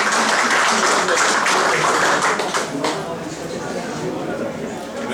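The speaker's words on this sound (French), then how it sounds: "On l'applaudit." An audience at a Black History Month celebration applauds a restaurant owner from La Calebasse, a loud round of clapping that tapers off partway through into chatter and voices.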